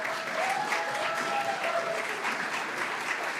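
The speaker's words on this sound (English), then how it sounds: "Let's have one last round of applause for our student athletes." A round of audience applause for student athletes at a high school senior and athletic award night, dense and steady throughout with a faint murmur of crowd voices underneath.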